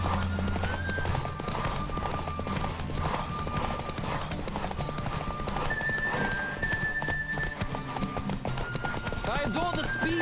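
A horse gallops hard in a Witcher 3 race, hooves drumming in a fast continuous rhythm up close, with tonal game sounds layered over the pounding.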